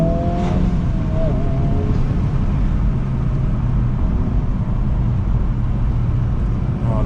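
A Honda Civic Type R FL5 with a six-speed manual is driven on roads in Japan, its engine droning loudly and steadily from inside the cabin with strong road rumble beneath and brief tonal revs near the start and end.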